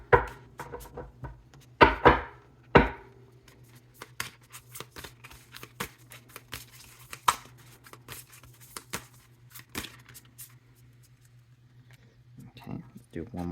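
A tarot card deck being shuffled by hand, heard as a quick burst of riffles early on and then scattered soft card taps and rustles over a low steady hum.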